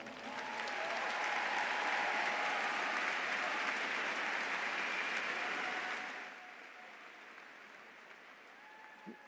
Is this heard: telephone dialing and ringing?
no